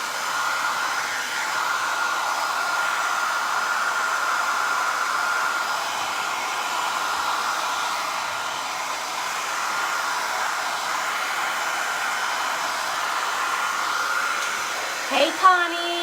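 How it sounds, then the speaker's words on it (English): A hair dryer blows warm air steadily to dry glass-and-resin wine art, a constant close whoosh lasting throughout, with a brief rattle of handling near the end. "I'm going to hit it with a little bit of warm air to see if we can get it a little more dry"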